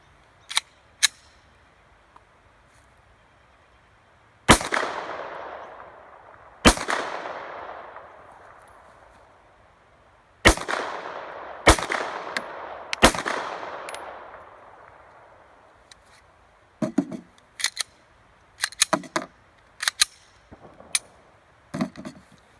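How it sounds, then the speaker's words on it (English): Pistol gunshots at an outdoor range, fired two-handed: a handful of sharp, loud reports with ringing decay spread irregularly, followed by a faster cluster of quicker, lighter cracks. "So, I'm going to do a few one-hand shots, but to start, two-hand."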